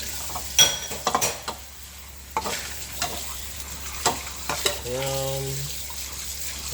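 A big bowl is rinsed at a kitchen sink during dish washing: irregular splashes, clunks and scrapes of the bowl under running water, close up, with a short tonal hum near the end.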